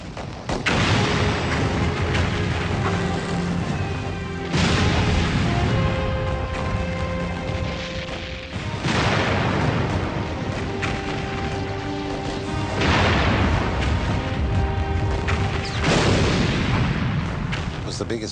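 World War I artillery barrage, shells fired by the hundred thousand a day: dense, continuous rumbling bombardment with repeated heavy booms swelling every few seconds, loud and sustained throughout.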